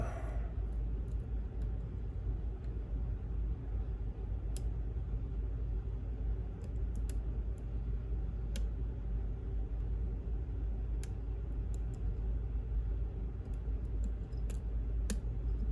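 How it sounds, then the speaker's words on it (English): Pins clicking and popping inside a lock being picked, faint irregular ticks scattered over a steady low rumble, no talking. "You'll start hearing some popping and clicking and stuff like that, and that's just those barrels getting worked up."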